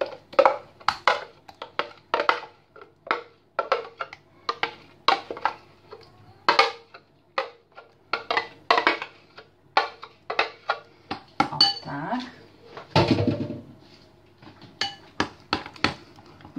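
Dishes and cutlery clink and scrape in a steady run of sharp knocks as a sugar-free no-bake dessert mixture with ground almonds is moved into a bowl, with a denser scraping stretch partway through and no talk.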